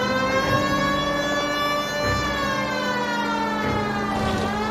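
Police car siren in the video game L.A. Noire, a loud, continuous wailing tone that rises and falls steadily through the whole stretch, close and alone without any talk.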